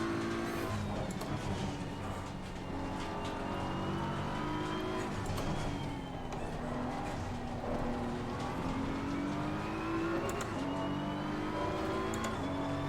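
A GT race car in Assetto Corsa Competizione, racing at the Nürburgring, roars at high revs throughout, its engine note bouncing off the rev limiter with a steady, loud, continuous drone and no talking.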